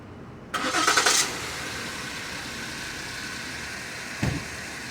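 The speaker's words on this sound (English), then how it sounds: "I went ahead and got my vehicle started" A car engine cranks briefly and catches, then settles into a steady low idle with a small blip later on, recorded outdoors in wind with no talking.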